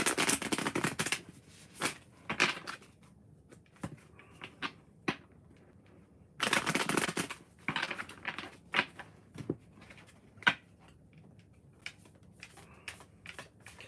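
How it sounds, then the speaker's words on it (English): Tarot cards being shuffled in several short bursts of riffling and flicking, close up, with quiet pauses between, no talking. "Give these a good shuffle."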